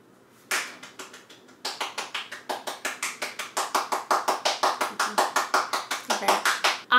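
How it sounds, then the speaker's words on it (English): One person claps hands by themselves, close by: a single clap, a short pause, then a long run of steady, evenly spaced sharp claps at a brisk rhythm that quicken slightly toward the end. "Okay, I finished my book. Claps for me."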